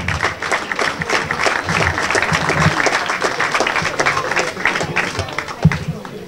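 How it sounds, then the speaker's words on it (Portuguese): Audience applause for a youth football coach at a club youth-section presentation, with steady clapping through the whole stretch, moderately loud and fairly close, and a few voices mixed in underneath. "Uma salva de palmas também para ele."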